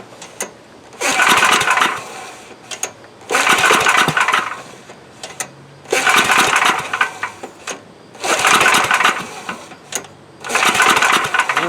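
A Coleman Powermate MAXA 5000 ER generator engine is pull-started repeatedly, with five separate rough bursts of engine noise, each lasting about a second, near and loud, separated by quieter pauses.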